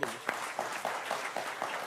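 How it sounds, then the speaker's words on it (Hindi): Audience applause at a talk about parliament, a short burst of clapping with a few sharper claps standing out at moderate level. "तालियां आपके लिए।"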